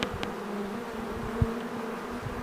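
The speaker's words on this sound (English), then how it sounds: "we are standing right in the midst of bees flying around" Swarm of bees flying around near a tree branch and capture box, a soft continuous buzzing drone close by, steady and faint with an occasional louder bee passing.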